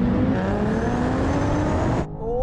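A Porsche 911 Turbo, BMW M8 and Nissan GT-R launch together from a drag race start, their engines roaring loud and steady as the revs climb. The roar cuts off abruptly near the end.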